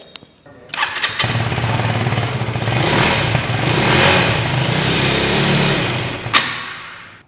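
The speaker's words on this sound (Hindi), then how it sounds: "आपको इस बाइक की एक एग्जॉस्ट नोट सुना देते हैं" A Husqvarna Vitpilen 250 motorcycle starts up with a click and then a loud, close, steady exhaust note that rises slightly with a throttle blip near the end before cutting off.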